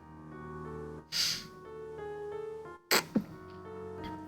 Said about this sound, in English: Sorry, had to clear my throat again.